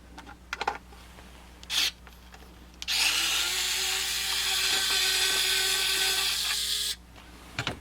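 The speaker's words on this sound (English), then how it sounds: "And I'll do it with my new screwdriver." A new magnetic power screwdriver drives a screw during house wiring, its motor whirring steadily for about four seconds after a few short clicks and knocks, close and loud.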